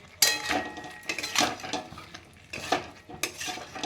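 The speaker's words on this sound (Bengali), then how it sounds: "এবার আমি মশলাগুলোর সাথে সবজিগুলো ভালো করে একটু কষিয়ে নেব" Broccoli and other vegetables with capsicum sautéed with spices in a pan, with a few bursts of spatula scraping and metal clinks over a faint sizzle, close by, no one speaking.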